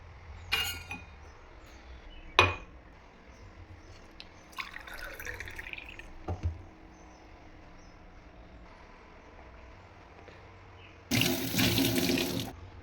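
Boiled and cooled water is poured from a kettle into a glass in a home kitchen: a few glassy clinks, a soft trickle, then a louder rush of running water near the end.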